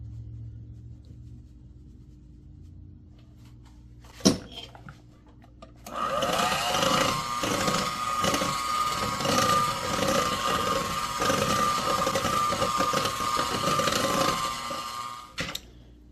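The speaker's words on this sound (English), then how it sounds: "Now we're going to blend half of our dry ingredients into our wet ingredients." Electric hand mixer blending dry ingredients into wet vegan peanut butter chocolate cupcake batter, a steady loud whirring drone lasting about ten seconds after a sharp click, ending with another click.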